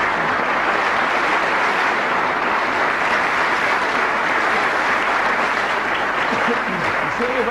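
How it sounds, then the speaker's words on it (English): Steady, loud applause from a snooker audience fills the whole stretch, a dense even clapping without pause. "Let's give Paul a nice round of applause."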